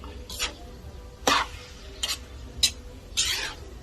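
Bopis being stirred in a cooking pan, with five short scraping strokes of a utensil against the pan, close and fairly quiet over a faint background.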